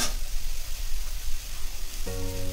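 Chopped eggplant fries with onions in a hot pan, giving a dense, continuous close sizzle throughout, with a brief tonal clink near the end.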